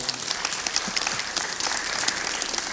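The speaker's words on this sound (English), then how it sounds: "Let's give her a hand." A crowd claps in steady, dense applause at a State of Marlboro County community gathering. The clapping is close, sustained and fairly even throughout, with no clear voices over it.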